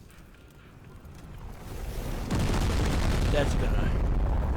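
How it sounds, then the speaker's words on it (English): A massive meteor strike explosion in the video game Teardown erupts as a rising rumble and then a sustained loud, dense roar of blasts and crumbling debris, with a voice speaking briefly over it. "Forgot what the meteor strike did."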